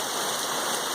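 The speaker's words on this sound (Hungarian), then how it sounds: "nagyon esik" Heavy rain pours steadily during a sunny late-July thunderstorm, a dense, loud and unbroken hiss of drops close by with no voices.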